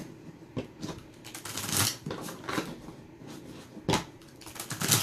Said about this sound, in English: I always shuffle my cards 3 times at least